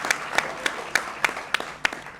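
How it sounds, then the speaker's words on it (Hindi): A studio audience claps to welcome guests on a television interview set, a small scattering of hand claps with distinct, evenly spaced sharp claps standing out over a soft background. "हमारी ऑडियंस भी है जो तालियां बजाकर आपका स्वागत करना चाहती है यहां पर।"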